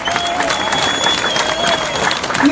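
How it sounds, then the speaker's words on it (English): A crowd at a public speech in Birmingham claps loudly for Nissa Hussain, dense continuous applause with some cheering mixed in, close and sustained across the whole moment. "What's a big round of applause for Nissa?"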